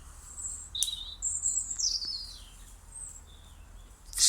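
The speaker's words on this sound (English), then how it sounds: "can you hear those birds?" Small birds chirp outdoors in quiet surroundings, a few high, thin tweets and short trills scattered across the moment, one louder call closing it, with no voices.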